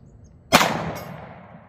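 A single sharp gunshot from an M&P pistol chambered in .357 Sig, a loud close crack with a long ringing decay, preceded by quiet room tone.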